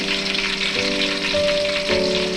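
Crab fries in a pan with a steady, moderately loud sizzle and a few faint tonal hums underneath, no voices present.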